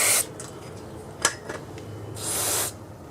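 A spray bottle or can misting down a part from a Craftsman lawn mower ahead of cleaning, with a short hiss near the start and a longer, louder hiss near the end, plus a small clack between them.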